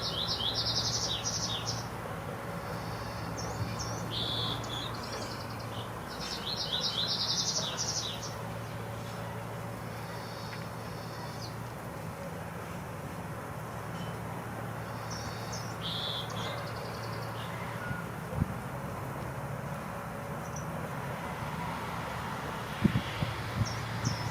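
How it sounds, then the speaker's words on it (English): Birds chirp and trill in repeated bursts outdoors over a steady background of insects and low ambient hum, with no talking. "I do enjoy working outside where I can hear the birds"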